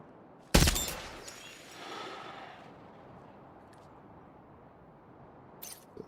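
A single sharp gunshot in Death Stranding 2, loud and close, followed by a fading echo, then quiet background with a couple of faint clicks near the end.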